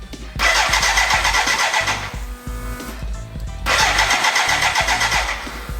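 A BMW K100 cafe racer motorcycle with suspected injector trouble, its starter cranking in two long attempts, loud and close, with the engine sputtering and briefly catching between them.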